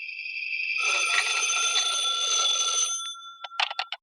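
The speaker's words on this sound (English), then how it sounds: "When I got home, the phone was ringing." An old telephone bell rings steadily for about two seconds as a 1949 radio drama sound effect, followed by a few short, sharp ringing bursts, loud and close with no voices.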